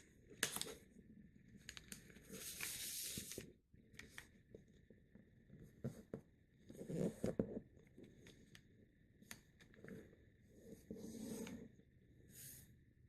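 Paper being folded into an F-14 Tomcat paper airplane gives soft crinkles, swishes and crease-pressing rustles in separate bursts with quiet gaps between, close and faint.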